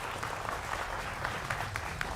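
Steady studio audience applause fills a Hindi television debate show, a dense wash of clapping at moderate level with occasional sharper claps standing out.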